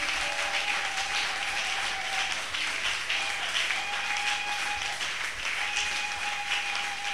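A church congregation applauds, sustained, dense clapping that fills the room at a steady level throughout, with a high tone running under it and no speech.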